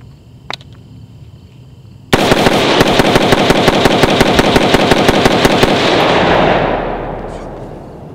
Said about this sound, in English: mag dump with your favorite rifle can be 10, 20, 30 rounds, 40 rounds, 100 rounds